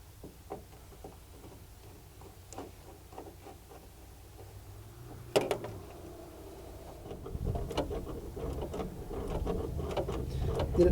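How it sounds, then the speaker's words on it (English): A screwdriver backing screws out of the transmission cover on a 1943 Willys MB: faint, scattered metallic clicks and small turning scrapes at first, then a louder, rougher rumbling, scraping stretch in the second half. "Back them out the rest of the way with the screwdriver."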